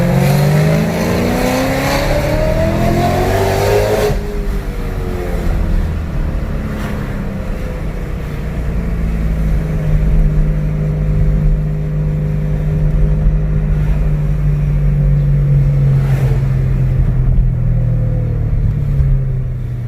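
A supercharged BMW E92 M3 engine revs under throttle, rising then falling in pitch before settling into a loud sustained drone with a supercharger whine, heard close and alone.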